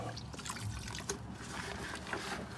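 Brake cleaner drips and trickles off car brake parts and calipers, a faint, close, irregular patter of liquid with no voices.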